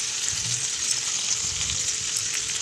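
Vegetables with prawns cook in a pan with a steady sizzle and frying hiss, while soft scraping stir strokes rise from the sizzle now and then.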